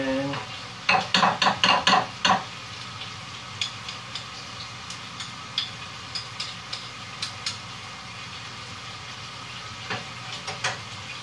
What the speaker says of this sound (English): We're whisking together a sauce that we'll use on top of the